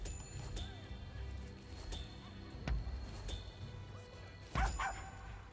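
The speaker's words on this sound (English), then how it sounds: "Is that my dog? It's my dog." A dog in the samurai video game Rise of the Ronin gives a few sharp barks and yips amid game music and ambience, with louder bursts near the middle and end.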